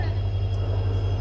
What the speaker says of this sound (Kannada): ಮೇಡಮ್ ಟ್ರೈನ್ ಬಂತು